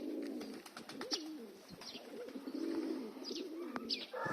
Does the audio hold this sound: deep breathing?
no